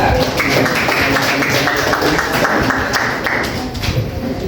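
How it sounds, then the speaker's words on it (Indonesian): A group claps together in a brief burst of applause for a presenting group at a teacher training discussion session, fairly loud and close, with a few voices murmuring underneath. "Kasih tepuk tangan untuk kelompok 9."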